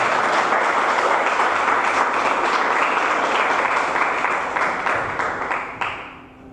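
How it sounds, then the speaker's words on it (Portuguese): Church congregation applauding, a steady loud roar of many hands clapping that holds for several seconds and then tapers off, with scattered claps at the end. "Dê uma salva de palmas a Jesus."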